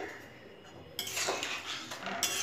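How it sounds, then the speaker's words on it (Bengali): A metal spoon scrapes and clinks against a cooking pot as water is stirred into a thin cauliflower and potato curry. The scraping is soft and close, and it grows busier and louder partway through. "জলটা দিয়ে ভালো মতো নাড়াচাড়া করে মিশিয়ে দিয়েছি।"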